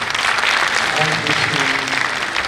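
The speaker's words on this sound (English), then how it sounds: "So let's give him a big round of applause." Conference audience applauding, a steady wash of clapping from a crowd filling the whole moment.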